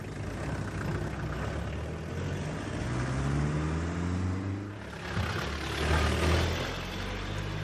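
A taxi car labouring uphill on Castle Road in Mowcop in the early hours, its engine droning and shifting pitch as it strains, fairly close and steady with a brief dip before revving again.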